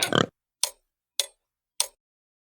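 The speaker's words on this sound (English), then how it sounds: "It's a pig." A pig oinks four times, one longer grunt followed by three short, evenly spaced snorts, each clear and isolated against silence.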